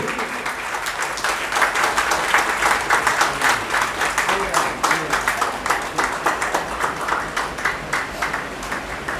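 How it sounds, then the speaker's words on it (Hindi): Hall audience clapping to welcome a guest at a community foundation day event in Garhwal Bhawan, loud and steady with a rhythmic pulse, under a voice speaking. "कृपया जोरदार तालियों के साथ"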